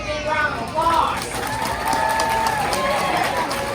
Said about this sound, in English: give her a great big round of applause